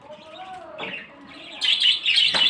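Budgerigars chirp inside a small farm cage, a close, bright flurry of overlapping tweets that grows busier and louder toward the end, with a softer call at the start.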